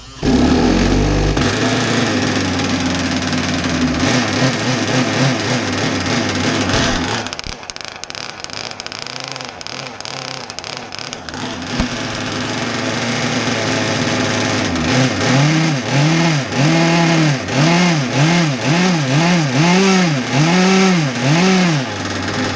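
A small engine, freshly de-winterized with its spark plug put back in about three turns, is cranked and catches, then runs loudly and steadily with a rising and falling idle near the microphone.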